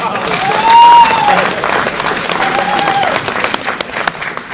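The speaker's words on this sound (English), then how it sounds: "Can we clap your hands for S'bu?" Delegates at a Pan-African dialogue opening ceremony give S'bu a loud round of applause, dense clapping throughout with a couple of brief high whistle-like tones rising over it early on.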